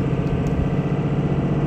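A truck engine runs steadily with a low, even rumble and no turbo spool, heard close from inside the cab while the truck tows a camper on the road.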